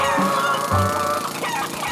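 Cartoon chickens cluck in a busy flock procession, short clucks layered over steady background music, fairly loud and continuous with no talking.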